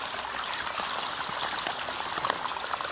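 Tap water runs steadily while dishes are washed at home, a continuous close splashing stream with light trickling and dribbling over utensils.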